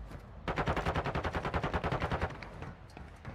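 Rapid burst of automatic gunfire in Call of Duty DMZ, a steady stream of close, loud shots that runs for about two seconds before trailing into sparser single cracks.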